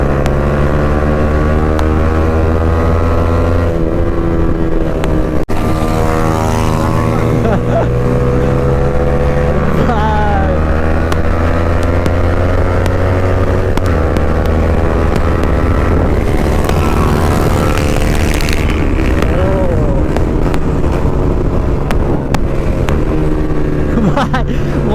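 Modified Yamaha R15 motorcycle engine run without a silencer, a loud, steady, raspy drone that revs up and down in pitch throughout, with voices faintly underneath.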